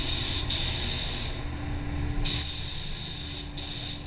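A paint spray gun hisses steadily, applying white sealer tinted light gray with a little black sealer onto a white car. The close, continuous spray is broken by brief louder surges.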